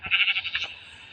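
A black sheep in the Minecraft video game bleats in a short, wavering electronic call, fairly loud and close, then trails off into quiet.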